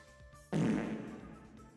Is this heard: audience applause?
no